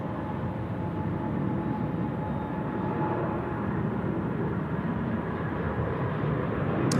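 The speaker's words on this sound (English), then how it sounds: "Hainan now rolling, and this is the 787 departure now, runway 34 left" A Boeing 787 rolling for takeoff at night on runway 34 left at Sydney Airport, a continuous broad jet roar that swells slightly and stays steady, heard alone with no talking.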